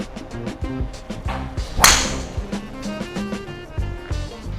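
A Cobra Darkspeed golf driver, US-spec Ling model with stiff flex shaft, strikes a ball with one sharp, bright crack near the middle, set against a steady layer of background music.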